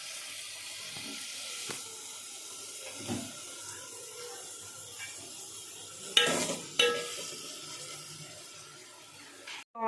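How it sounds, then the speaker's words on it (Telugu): Onions frying to golden brown in a pan over medium flame for chicken curry, a faint continuous sizzle broken by a few louder stirring scrapes, no voices. "ఆనియన్స్ అనేవి గోల్డెన్ బ్రౌన్ కలర్లో ఫ్రై అయ్యాయి"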